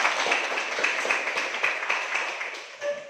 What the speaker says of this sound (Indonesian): Kita berikan tepuk tangan dulu buat yang bertanya.